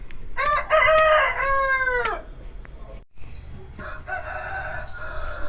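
A medium-sized Kaki fighting rooster of about 3 kg, kept for sale in Marathipalem, Ongole, crows once close and loud with a long rising-falling call. Softer clucking and other fowl sounds follow.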